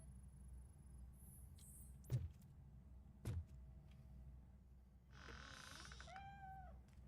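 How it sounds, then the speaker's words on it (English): In the RoboCop: Rogue City video game, a cat shut in a cupboard gives a couple of faint short cries and a longer, rising meow near the end, over quiet background ambience. "Да, кот в шкафу."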